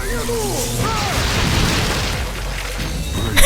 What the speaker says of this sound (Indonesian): menyalurkan energi listrik berlebihan ke lawannya, hingga keduanya meledak